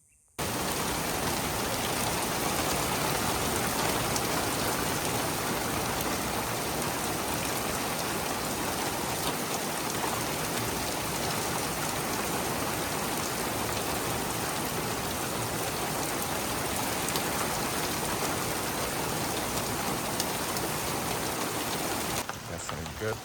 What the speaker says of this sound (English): These raindrops is chilly. Let's see kind of how the rain is going over here.